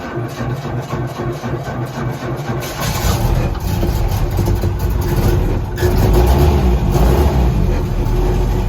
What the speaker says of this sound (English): the engine runs really well even cold. And it's sitting here idling